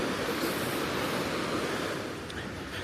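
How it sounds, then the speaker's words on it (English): Steady broadband rush of white water tumbling through a stream near Kildoo Falls at McConnells Mill State Park, Pennsylvania, continuous and fairly loud with no pauses. "There's a view of the white water that started picking back up again."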